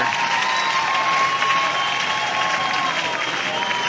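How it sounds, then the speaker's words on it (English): A crowd cheers and applauds at a women's college softball game between Oklahoma and Georgia, a steady, dense roar of many voices and clapping held at full volume throughout. "you hear everybody starting to cheer here"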